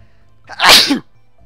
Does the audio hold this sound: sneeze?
yes